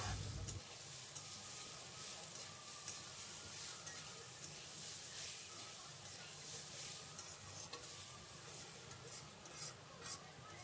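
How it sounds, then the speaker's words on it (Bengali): Turmeric, cumin and green chillies are stirred in a hot frying pan for khichuri, giving a continuous sizzle with scraping stir strokes, fairly close but quiet. "এবার ভালো করে নাড়াচাড়া করে এটাকে মিশিয়ে নেব।"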